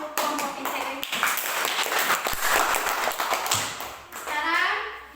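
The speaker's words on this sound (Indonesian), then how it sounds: "tepuk tangan untuk kelompok integritas." A class of children applauds a student group after a presentation, with a short, loose burst of clapping mixed with chatter and voices, fairly close and moderately loud.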